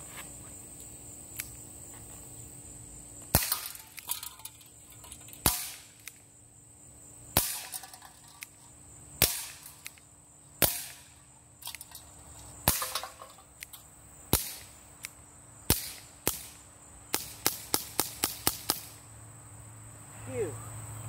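A Schofield BB gun pistol fires a series of sharp cracks, sparse at first and then in a quick rapid string near the end, loud and close, with insect chirping in the background.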